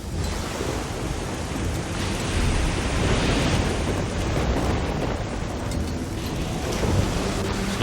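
Stormy weather in the game Risen 2: Dark Waters, with a steady, loud wash of rain and crashing surf and a deep thunder rumble swelling through the middle, dense and continuous with no voices.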